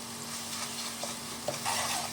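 Ginger garlic paste and turmeric fry and sizzle in a pan, a steady close hiss with a few soft stirring scrapes and no voices.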